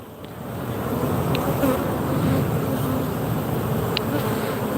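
Steady, loud drone of honey bees buzzing inside a hive during October, a close, unbroken hum with no voices over it.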